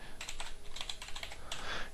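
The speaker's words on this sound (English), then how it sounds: "here by typing that into the search box and clicking on search" Steady, close typing on a computer keyboard, with quick clustered keystrokes and a few brief pauses, while a search term is entered.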